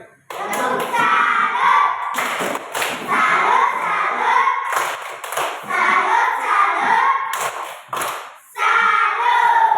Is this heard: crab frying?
no